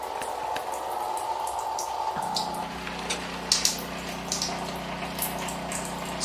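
Water runs through a rubber pipe shaken by a subwoofer, a soft steady trickle with drips that shifts into a low sustained hum partway through, alongside scattered light splashes.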